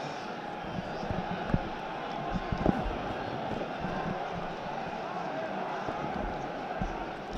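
Steady roar of a football crowd at a Sunderland AFC versus Preston North End match, a constant dense murmur with occasional thumps, under a commentator's voice.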